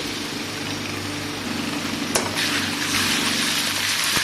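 Cut vegetables and browned onion with ginger-garlic paste sizzle steadily in a pan for Bengaluru-style sambar dal, a loud continuous frying hiss with a steady low hum beneath and a brief clatter midway.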